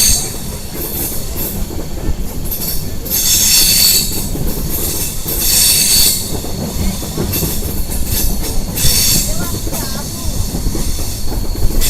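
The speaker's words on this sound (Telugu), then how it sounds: "ట్రాక్ సౌండ్ చూడండి ఎలా వస్తుంది" Passenger train on a long-distance general-class journey rolling steadily along the railway track, a continuous loud rumble with surging hiss and squeal peaking every few seconds, no talk over it.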